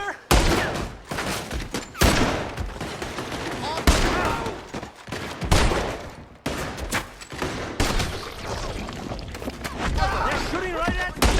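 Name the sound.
gunfire in video game Red Dead Redemption 2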